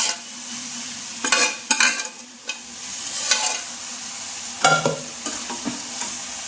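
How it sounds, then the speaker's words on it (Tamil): Plantain stem and Bengal gram poriyal stirred in a pan, a steady frying sizzle broken by several sharp scrapes and clinks of a spoon against the metal, close and fairly loud, with no talking. "இப்போ நல்லா கிளறி விட்டுக்கோங்க"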